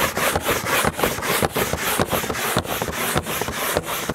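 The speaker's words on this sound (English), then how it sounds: "Simply apply and agitate with a brush." A hand brush scrubs a car floor mat soaked with all-purpose cleaner in fast, regular back-and-forth strokes, a loud close rasping rhythm with no talking.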